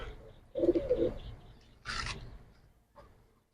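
A Giribaz pigeon gives a short, low coo, followed by a brief rustle and faint soft sounds, close and quiet.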